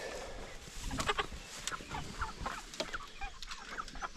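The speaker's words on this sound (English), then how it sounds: "Here's the chickens." A flock of nearly nine-week-old meat chickens on a regenerative farm clucks and peeps in a busy, overlapping chatter, close and moderately quiet, with no talking.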